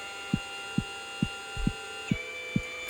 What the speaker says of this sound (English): So now you're just hearing the motors of the synth.